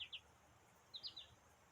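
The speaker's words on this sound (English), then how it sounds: "You hear that little yellow golden finch?" Small yellow goldfinch singing in short, high chirps, one pair near the start and a quick run of three or four notes about a second later, faint against a quiet outdoor background.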